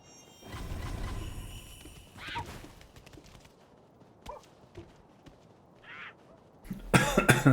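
Short, throaty coughs from a character in the Sekiro video game break out in scattered bursts among quieter game sounds, ending in a louder cluster of noise.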